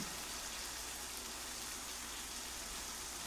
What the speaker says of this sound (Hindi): बारिश के रुकने का इंतजार नहीं करना चाहिए